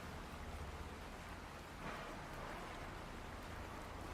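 Steady rain in American Truck Simulator, a constant broadband hiss of falling water on the truck, even and moderately loud throughout with a slight swell midway, no talking.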